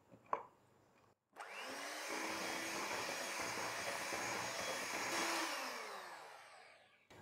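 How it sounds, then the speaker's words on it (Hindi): An electric beater whirs loudly and steadily as it beats mango puree into cream and condensed milk, starting after a brief knock and running continuously close by. "अब इसमें हम ये मैंगो प्यूरी डाल देंगे और इसे फिर से बस हमने मिक्स करना है और हल्का सा इसे बीट करना है"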